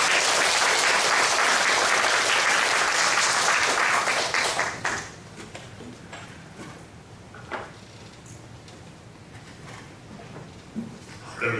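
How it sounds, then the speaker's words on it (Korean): A church congregation at a Sunday service in Masan gives loud, dense applause that fills the room for about five seconds, then fades to scattered claps, shuffling and quiet room noise. "우리 큰 박수로 김철환 목사님을 맞이하도록 하겠습니다."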